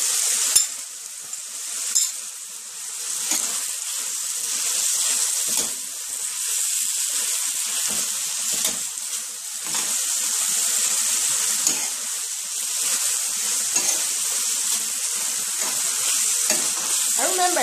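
Saltfish frying on low heat in a pan for ackee and saltfish fried rice, a steady close sizzle with occasional stirring scrapes and clicks running throughout.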